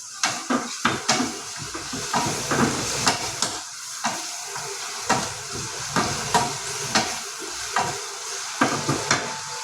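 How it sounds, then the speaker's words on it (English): Paneer frying with masalas in a pan over a high flame, a sizzling hiss broken by repeated scraping stirs and clinks of a utensil against the pan in an irregular rhythm. "We have to fry it with all the masalas."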